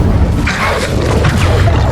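Incendio fire spell cast in Hogwarts Legacy: a loud, dense whooshing burst with booming, crackling impact rumble, sustained for about two seconds.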